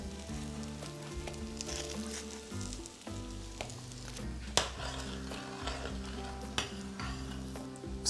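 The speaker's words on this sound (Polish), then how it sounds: "pierwsza partia boczniaków nam się smaży" Oyster mushrooms fry in a pan with a steady sizzle, occasional stirring and light utensil clinks, while faint background music plays.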